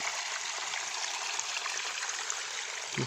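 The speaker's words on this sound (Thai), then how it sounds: "น้ำไหลลงนี่" Stream water flows downhill in a constant, close rushing wash, steady and unbroken for the whole stretch.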